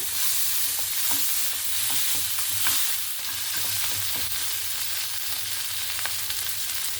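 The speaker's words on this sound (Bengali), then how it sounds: "ইলিশ মাছের মাথাটা ভালো করে উল্টে পাল্টে ভেজে নিয়েছি এবার একটু খুন্তি দিয়ে একটু ভেঙে ভেঙে নেব" Hilsa fish heads fry in a pan while a spatula stirs and breaks them up, a dense, even sizzle running throughout with faint scraping taps, close up and without talk.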